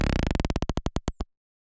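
Glitchy electronic drums run through overdrive with a resonant filter fully wet form a rapid stuttering burst that slows and spreads out like a decelerating roll, bright and metallic, then stops dead into silence.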